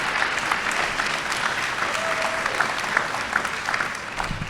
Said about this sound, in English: let's show the faculty and staff a round of applause